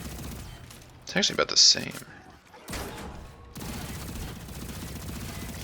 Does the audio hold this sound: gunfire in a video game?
yes